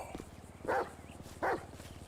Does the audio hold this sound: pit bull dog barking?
yes